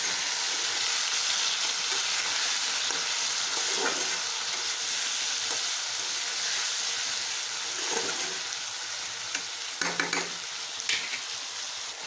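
Ivy gourd and bitter gourd fry in a pan with a steady close sizzle, broken by occasional scrapes of a stirring spoon and a cluster of louder clattering knocks near the end, with no talking.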